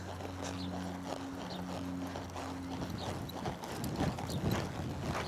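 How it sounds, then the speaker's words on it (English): A horse loping through an arena, its hooves striking the ground in a steady, rolling clip-clop rhythm at moderate distance, with a faint low hum in the background. "I'm gonna lope him through now."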